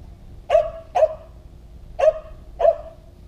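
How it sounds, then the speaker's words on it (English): Dog barking four times in two close pairs, fairly near and clear against a quiet background hum, with no talk over it. "Of course, the dog has to bark at all the noise around here."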